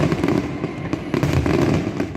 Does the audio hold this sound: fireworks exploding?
yes